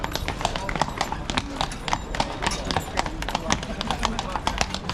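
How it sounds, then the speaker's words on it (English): Horse hooves clip-clop on the paving of Krakow's main square, a steady repeated clatter of sharp, fairly close footfalls heard through constant crowd chatter and talk. "Got a horse there."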